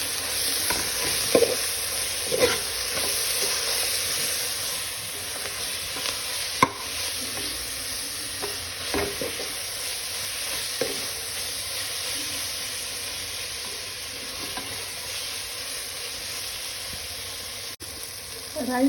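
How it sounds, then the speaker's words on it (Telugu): Ginger garlic paste frying with coriander, curry leaves and mint for a veg biryani, giving a steady soft sizzle with faint stirring scrapes throughout, alone and without talk. "అల్లం వెల్లుల్లి పేస్ట్ వేగిన తర్వాత అందులోకి కొత్తిమీర, కరివేపాకు, పుదీనా తీసుకున్నాను."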